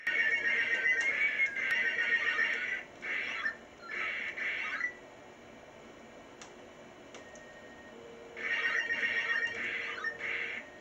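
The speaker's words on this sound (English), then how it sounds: "the sound effect on this level is wrong, so the board still has issues" A faulty sound effect from a Phoenix arcade game board under repair: bursts of harsh, buzzy electronic warbling that repeat in groups and stop for a few seconds in the middle, with a steady faint hum underneath.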